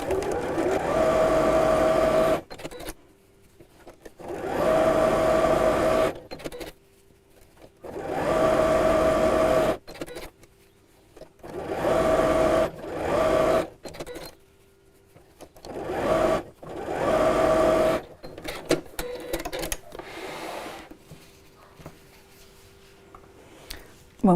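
A sewing machine stitches patchwork fabric for a pin cushion in repeated bursts of steady whirring, each run a few seconds long and separated by short pauses.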